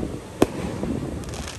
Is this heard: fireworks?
yes